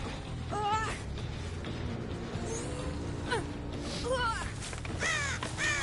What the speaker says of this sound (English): Someone's nearby scaring birds.